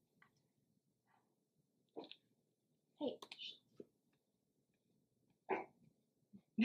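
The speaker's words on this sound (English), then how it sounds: "don't mind my dog" A dog barks in a few sharp, close bursts, separated by pauses, indoors during a plant-based burger mukbang, with faint background murmur between the barks.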